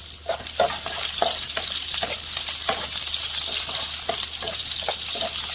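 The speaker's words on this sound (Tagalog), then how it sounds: "Mainit na ang ating mantika. So, lagyan natin natin bawang." Garlic sizzles in hot oil in a pan while being stirred, a bright, continuous frying hiss punctuated by regular scraping strokes of a utensil, close and fairly loud with no talking.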